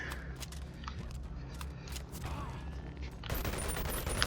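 Dual SMGs in the VR game Boneworks let out scattered sharp cracks and mechanical clicks, then a rapid continuous burst of fire near the end, close and crisp with no talking.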